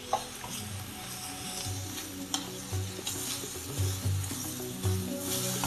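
Mushroom egusi soup bubbling and sizzling in a pot, a steady close simmer with soft stirring scrapes and occasional pops, no voices.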